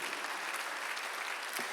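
A church congregation applauds during a Sunday worship service, giving dense, continuous clapping from many hands at an even level throughout.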